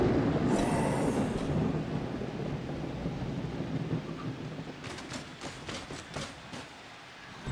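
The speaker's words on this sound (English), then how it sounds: "It is a miserable rainy day." Steady rain hiss with low rumbling thunder on a miserable rainy day in a Dungeonbowl fantasy football video game, a continuous wash fading slightly, with a few crackling rolls near the end.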